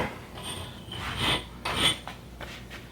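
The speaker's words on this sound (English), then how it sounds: "we might come in and small it up with a slightly smaller half-round file. Get some burrs off." A half-round file worked over a custom stem, giving a few short, quiet rasping strokes at close range with brief pauses between them.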